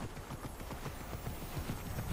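Rapid, rhythmic hoofbeats of a galloping horse in the video game Immortals: Fenyx Rising thud continuously at a low, steady level.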